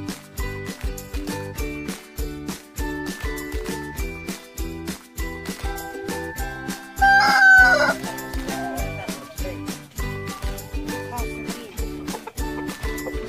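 Barred Plymouth Rock broodcock rooster crowing at a beginner's chicken farm, one drawn-out crow midway through over steady rhythmic background music and clucking fowl, no talk.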